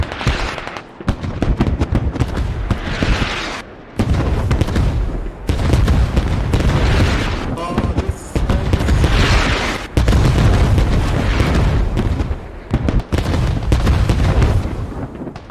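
Heavy combat in the SquadOps military video game: loud, dense gunfire and booming explosions come in long, repeated bursts with brief lulls between them, crackling and rumbling close by throughout.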